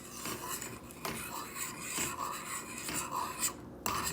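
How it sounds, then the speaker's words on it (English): Gummy candy mixture with sprinkled gelatin stirred in a pot over low-medium heat: soft, steady rubbing and scraping strokes with faint utensil clinks against the pot, close and quiet. "So we're gonna sprinkle a little bit and mix, mix, mix, mix, mix."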